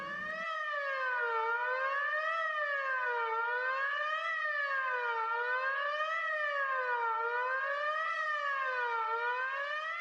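An animated ambulance siren wails continuously in smooth, regular up-and-down sweeps, loud and clear on its own for the whole stretch with no speech over it.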